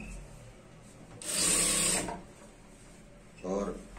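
An electric sewing machine stitches a trouser waistband in a short burst of about a second, whirring close and fairly loud over a quiet room, then a brief second run near the end, with a voice speaking in between.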